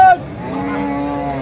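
A cow lows loudly and close by at a busy cattle market in Dinajpur, one long sustained moo lasting over a second.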